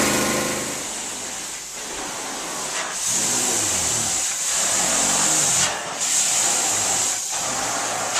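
A carpet steam cleaning machine sprays with a loud continuous hiss, joined by a motor hum. The hiss swells and breaks off in a few bursts, and no one speaks over it.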